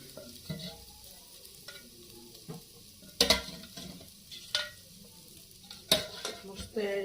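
Mutton fries in a pan while a spoon stirs it, giving a soft steady sizzle punctuated by sharp, close metallic scrapes and knocks every second or so.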